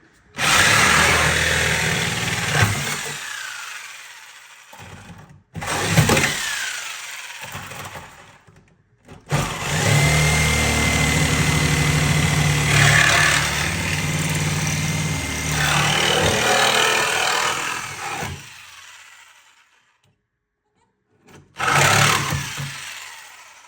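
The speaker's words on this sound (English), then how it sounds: "I'll go right through there with the Sawzall." A Sawzall reciprocating saw cuts through the floor pan of a Datsun 280z in long, loud, buzzing bursts of metal cutting, stopping and restarting several times with short silent gaps between runs.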